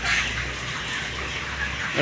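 Broiler chickens about 27 days old on a poultry farm, clucking as a dense, steady flock murmur that fills the whole span at a close, even level.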